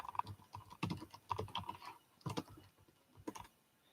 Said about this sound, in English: you can tell I'm typing because it goes,